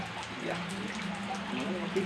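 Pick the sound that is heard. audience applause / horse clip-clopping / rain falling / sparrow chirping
rain falling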